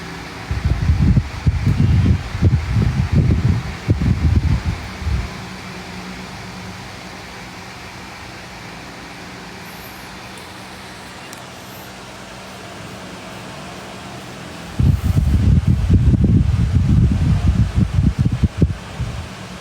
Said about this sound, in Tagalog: Ang ingay ng electric fan.